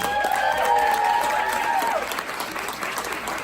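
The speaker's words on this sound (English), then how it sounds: "Big round of applause" Conference attendees at a summit talk on impostor syndrome give the speaker a loud, sustained round of applause, with whistles and cheers rising above the dense clapping.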